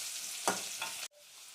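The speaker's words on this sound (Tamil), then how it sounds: "வதக்கி விட்டுக்கலாம்." Onions and curry leaves sauté in hot oil, giving a loud, bright sizzle with a couple of stirring scrapes, then the frying cuts off abruptly and leaves only a faint low hiss.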